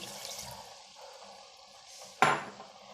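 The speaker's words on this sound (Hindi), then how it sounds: "ये पूरा डाल देंगे लहसुन का पानी" Garlic water poured into a cooking pot for chicken kunna, a soft watery run that ends in a sudden splashing pour, near and fairly loud, with light kitchen clatter before it and no talking.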